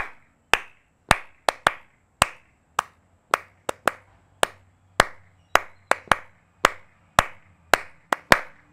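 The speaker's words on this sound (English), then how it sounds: "Let's remember what that is by clapping it out right now." Crisp, close hand claps beat out an 8-count swing dance rhythm, sharp single claps in uneven groupings with brief pauses between them, nearly alone in a quiet room.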